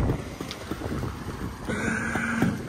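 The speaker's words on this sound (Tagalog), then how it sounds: "gusto ko marinig yung simoy ng hangin." Wind blowing steadily outdoors at a scenic stop beside a parked Kawasaki Brutus 140 motorcycle, a continuous broad rush throughout, with a faint low steady hum joining in the second half.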